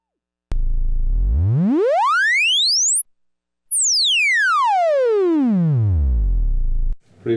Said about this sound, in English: Let's listen to the triangle wave.